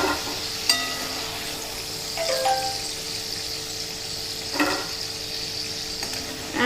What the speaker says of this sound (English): Allow these to fry until they are golden.